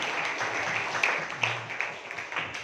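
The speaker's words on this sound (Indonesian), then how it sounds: "tepuk tangan untuk Ramzi." Students at a basic leadership training session give soft, steady applause. The even patter of many hands sounds slightly distant, with a few sharper claps near the end.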